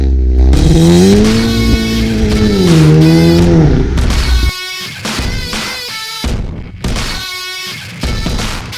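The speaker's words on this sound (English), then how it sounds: "My absolute favorite thing about this car is the way it launches out of the blocks." An Audi S3 sleeper launches hard and accelerates, its engine roaring loudly as revs climb steeply, then rising again through quick gear changes with brief drops between pulls.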